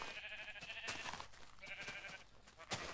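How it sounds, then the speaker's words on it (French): Sheep in the Minecraft video game bleat in short, repeated calls at low volume, several overlapping across a few seconds with no talking. "Je vais tuer un petit mouton, enfin 3 petits moutons pour avoir de la laine."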